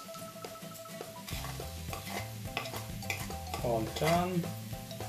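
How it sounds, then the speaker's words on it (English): Boiled mashed potatoes are stirred with turmeric powder and salt in a pan for a Bombay-style masala toast filling, giving a run of rhythmic scraping and stirring knocks over a soft sizzle, with a short spoken phrase. "And I'll mix it very well."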